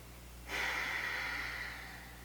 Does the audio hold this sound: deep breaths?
yes